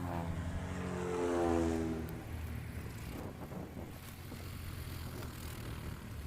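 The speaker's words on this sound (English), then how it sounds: "got a aircraft departing now, taking the full length of the runway." A transient light aircraft at Patriot Airpark, Oklahoma, takes the full length of the runway, its propeller engine droning loud and near at first, pitch sliding down as it rolls away, then fading into a steady distant hum.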